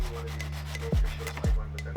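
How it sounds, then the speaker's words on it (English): Sandpaper is rubbed along the rough cut edges of a plexiglass piece, a continuous scratchy rasp with two sharper strokes close up and no speech. "I used some sandpaper just to smooth out the edges"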